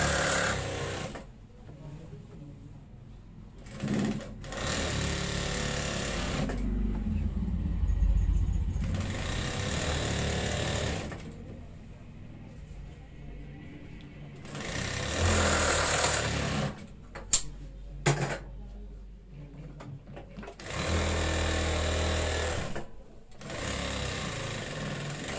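A sewing machine stitches a round shirt-collar school kameez in bursts of steady mechanical whirring, several runs separated by brief pauses, close and fairly loud, with no talking.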